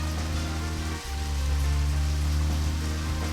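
Rain falls steadily in the video game Deadly Premonition, a continuous hiss of drops over a low rumbling background, with a brief dip in level partway through.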